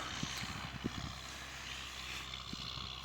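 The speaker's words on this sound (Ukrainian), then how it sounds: "Коментуйте, друзі, як вам двигатель працює." A steady, close MTZ-80 tractor engine drones on while the tractor pulls a plow in spring fields, a continuous loud hum with a few brief low knocks and no talking.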